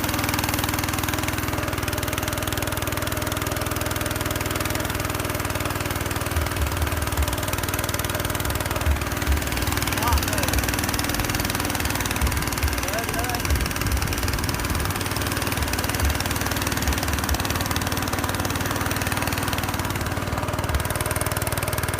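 A pickup truck engine revs with a steady low rumble that swells and surges, loud and close, with voices faintly audible nearby.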